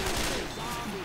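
Gunfire from a weapon in the co-op video game Left 4 Dead 2, a dense burst of shots blending into a loud, noisy game mix with background effects.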